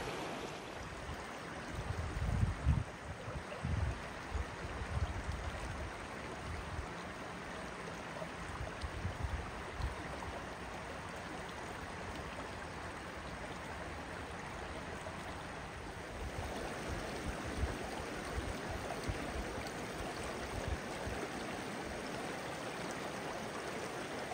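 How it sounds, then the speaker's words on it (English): Creek water trickles steadily at a mountain campsite, a continuous close wash of flowing water with no voices. "it's just the trickling sounds of the water, which is very, very peaceful"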